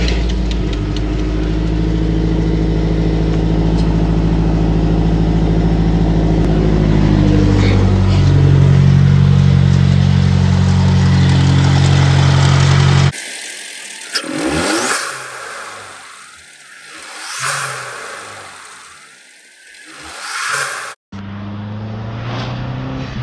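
A MazdaSpeed 3 with a Cobb intake revs repeatedly nearby, with a sustained high-revving stretch followed by several sharp rising-and-falling throttle sweeps, with turbo whoosh and boost noises.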